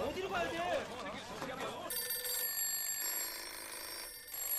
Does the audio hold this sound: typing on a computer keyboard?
no